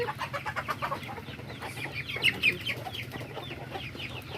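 Several chickens cluck continuously nearby, with quick repeated clucks and a few louder squawks over a low background rumble.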